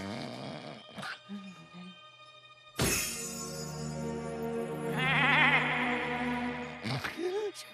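Cartoon goats bleat in the animated series George of the Jungle: wavering, nasal cries over a bed of background music, with short voiced sounds at the start and end.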